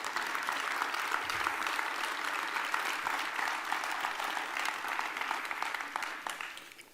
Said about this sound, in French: Moi, j'aimerais bien qu'on applaudisse monsieur Gérard Larcher.